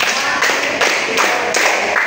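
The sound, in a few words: group clapping five times for a student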